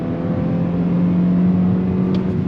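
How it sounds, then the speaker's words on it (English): A 2022 Toyota Corolla 6-speed manual hatchback accelerates hard in a steady, close engine drone, with a faint brief tire chirp near the end. "Yeah, chirping tires, a super happy tire."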